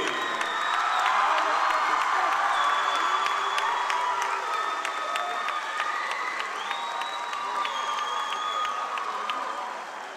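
Crowd applauding and cheering for both teams after a high school championship game at Taunton High School, a sustained roar of clapping mixed with whoops, shouts and whistle-like calls throughout, fairly loud and continuous.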